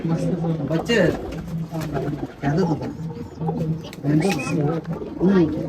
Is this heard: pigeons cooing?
yes